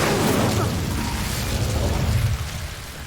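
The Incendio fire spell in Hogwarts Legacy bursts out as a loud, broad whooshing roar of flame, holding steady for a few seconds and then beginning to fade.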